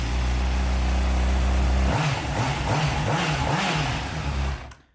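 Rebuilt Honda CBR600RR motorcycle engine running: a steady idle that rises into quick revving blips, pulsing in a regular rhythm close by, before cutting off abruptly at the end.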